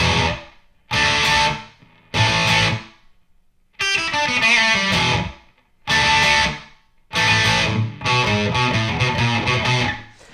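Distorted electric guitar plays an intro riff in loud chord bursts separated by short silences, a sustained ringing passage in the middle, no voices.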